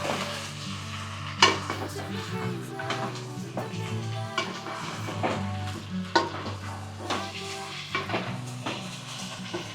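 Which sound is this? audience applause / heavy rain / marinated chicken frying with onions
marinated chicken frying with onions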